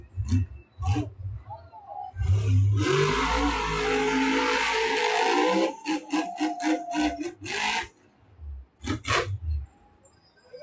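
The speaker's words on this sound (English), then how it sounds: "Sounds like that engine is trying to refire here." A monster truck at the Monster Jam World Finals sputters and roars as its engine tries to refire, with a long loud rasping blast followed by several short choppy bursts and pops in an arena, an announcer's voice talking intermittently.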